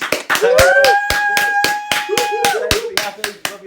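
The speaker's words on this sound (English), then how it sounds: "Round of applause for Nick" A small round of hand clapping closes a live cocktail masterclass on Bloody Marys and Margaritas, with sharp, spaced claps from a few people under overlapping voices.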